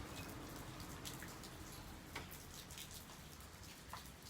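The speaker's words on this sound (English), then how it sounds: "It's not very common to see that much rain this time of the year here." Rain falls outside, a soft continuous patter with scattered distinct drops landing on nearby surfaces, fairly faint throughout.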